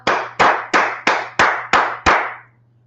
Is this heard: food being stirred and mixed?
no